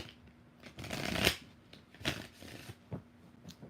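Tarot cards riffled and shuffled several times in quick bursts, close by, with soft papery flutters between the louder riffles.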